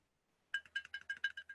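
Around eight quick, light clicks of a finger tapping a sealed canning jar lid in an uneven rhythm, close and fairly quiet, with no voices.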